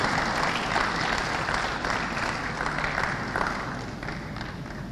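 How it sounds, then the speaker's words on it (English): A broad wash of audience applause at a live venture capital program event in Enugu, steady and fairly distant, holding continuously and easing slightly toward the end. "Can we give him a round of applause, please?"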